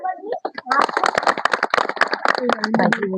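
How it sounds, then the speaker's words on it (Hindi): Villagers at a gathering clap energetically for a farmer who took up natural farming, a dense run of sharp, close claps that builds quickly and keeps going, with voices at the start and end. "एक बार जोरदार तालियां भाई के लिए"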